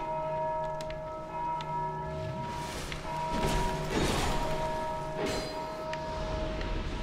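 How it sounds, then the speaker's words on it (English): Church-like bell tolls in the video game Dark Souls 2, a sustained resonant ringing with long decaying tones layered over game ambience and some crashing thuds. "Ringing a bell."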